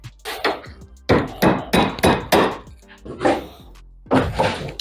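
A bent BMW hood latch part is hammered straight: a string of about ten loud, sharp metal strikes in uneven bursts, close by and with no talking.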